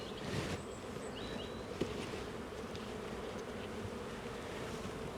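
Honeybees buzz in a dense, steady drone during a hive inspection, close and continuous, with a brief knock partway through and no talk.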